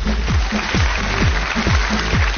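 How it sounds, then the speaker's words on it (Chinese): A studio audience at a Chinese television talent show applauds in a dense, loud, continuous wash of clapping, with sweeping tones layered over it. "掌声请出另外两组选手。"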